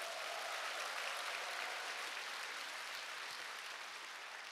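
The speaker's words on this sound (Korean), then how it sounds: "자기 자신한테 큰 박수를 보내주시기 바랍니다" A large seminar audience bursts into dense, continuous applause, a steady wash of many hands clapping from across the hall, slightly easing toward the end.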